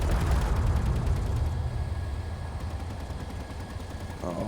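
Gatling turrets in the Space Engineers video game fire nonstop at incoming missiles, a dense rapid rattle of gunfire with heavy low rumble that stays loud throughout.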